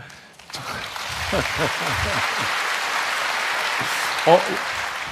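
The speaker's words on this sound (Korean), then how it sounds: "박수 타이밍을 잡고 하시는 것 같아요." Church audience at a talk sermon applauds, a sustained wash of clapping from a crowd that runs through most of the stretch, with voices and a short vocal sound rising briefly above it.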